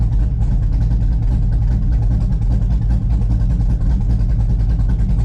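A deep, loud header-dump exhaust rumble from a Chevrolet Camaro ZL1 throbs continuously, a heavy low burble close to the listener with no pauses.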